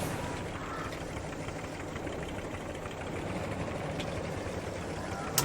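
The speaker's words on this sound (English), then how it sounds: "I like the engine sound. It's very mechanical." A vehicle engine runs steadily in Farming Simulator 22, a continuous mechanical drone with faint knocking, held at an even level throughout.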